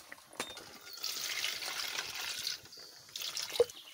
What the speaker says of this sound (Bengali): ডিমটা আমি তুলে নিয়ে একটু জল দিই।